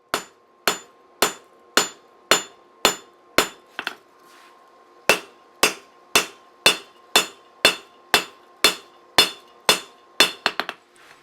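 A hammer forges the bevels of a chef knife blade on an anvil, landing about twenty sharp ringing blows in a steady rhythm with one short pause, then a quick flurry of lighter taps at the end.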